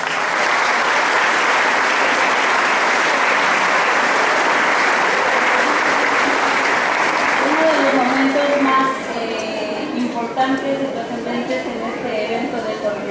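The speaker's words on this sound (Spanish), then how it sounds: "brindémosles un fuerte aplauso" Strong applause at a secondary school festival honoring mothers and crowning the student royal court, a loud sustained crowd ovation that thins after about nine seconds as a voice and music-like tones emerge.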